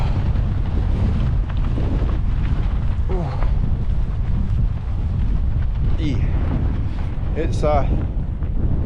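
Strong wind blows steadily across open moorland on Dartmoor, a loud continuous roar buffeting the microphone throughout, with someone speaking briefly over it.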